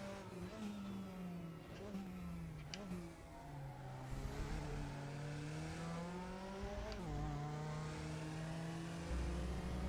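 DTM race car in the Raceroom sim racing game, its engine revving steadily with rising and falling pitch sweeps through gear changes, loud and continuous throughout.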